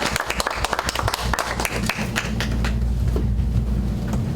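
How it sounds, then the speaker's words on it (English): A bookstore audience at an author event claps in a burst of sharp, distinct hand claps that blend into a continuous wash, over a steady low hum in the room. "please give a huge round of applause for John and Emmett"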